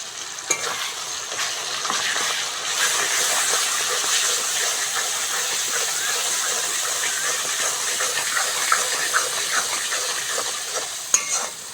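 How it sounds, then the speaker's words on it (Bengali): Spices sautéing in oil for a Bengali village-style egg curry, a continuous close sizzle with wet stirring and bubbling, a few sharp clinks of a spoon against the pan, and no voices. "ভালো করে মশলাগুলো কষে নেবো"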